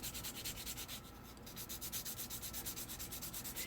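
Resin model part being sanded by hand, heard as steady rhythmic back-and-forth scratching strokes, close and fairly quiet, with no speech.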